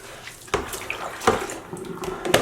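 Running tap water rinses tea-dyed sock yarn in a sink, a steady splashing flow with a few louder surges and gurgles as the yarn is moved under the stream.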